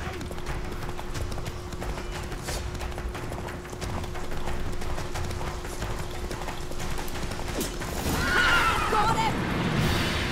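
Roach, the horse in The Witcher 3 video game, clip-clops steadily throughout, then lets out a loud whinnying neigh near the end, with faint voices in the background.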